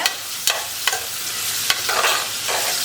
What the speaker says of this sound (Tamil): நமக்கு வந்து வெங்காயம் வந்து ரொம்ப வதங்கணும்னு தேவையில்லை கொஞ்சம் டிரான்ஸ்பரண்ட்டாக ஆனால் போதும்